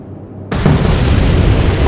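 Naval gunfire from the video game Atlantic Fleet strikes an enemy ship about 1600 meters off, a sudden loud explosive impact after a quiet lead-in, followed by a sustained roaring, crackling boom that fills the rest of the moment.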